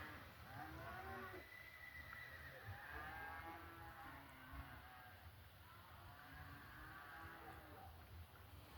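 Many cattle mooing during a cattle drive through a small Southern Alberta town, long overlapping low bellows and calls from several animals at moderate distance over a steady rumbling background, no talk.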